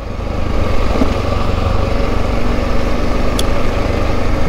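Adventure motorcycle engine droning steadily while riding across a dry lake bed in the Alvord Desert, a loud continuous rumble with wind buffeting and no pauses.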